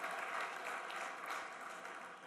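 Audience applause at a public honoring ceremony, steady dense clapping from a crowd throughout, moderately distant and even in level.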